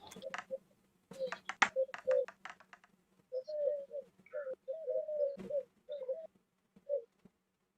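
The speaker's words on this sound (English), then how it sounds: "I love the birds. Yeah, I can hear the birds." Birds call softly in short, repeated cooing phrases, mixed with sharp taps and clicks in an otherwise quiet setting.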